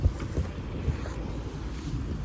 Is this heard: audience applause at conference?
no